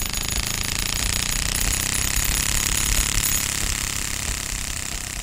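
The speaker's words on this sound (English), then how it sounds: "as you really ramp up that card that's in the clothing pin, it makes almost a sound like a lawnmower" A card clipped in a clothespin on a skateboard flaps fast enough to sound like a lawnmower, producing a loud, dense rattling buzz that runs unbroken and steady throughout, with no voices.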